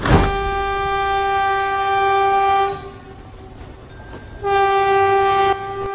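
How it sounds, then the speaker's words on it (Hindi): A cartoon train pulling in, with a loud sustained multi-tone horn that cuts off, a brief rumbling pause, then the horn blasts again, close and dominant with no talk. "अरे यार ट्रेन तो आ ही गई"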